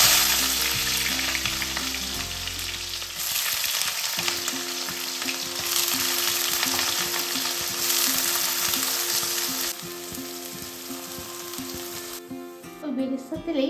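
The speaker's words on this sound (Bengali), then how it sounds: "সাদা তেলটা গরম হয়ে গেলে আমি পেঁয়াজ বেরেস্তাটা বানিয়ে নিচ্ছি" Sliced onions fry in hot white oil for birista, giving a loud, dense, continuous sizzle close by, with stirring strokes and crackling that swell and ease in turn, and no voices.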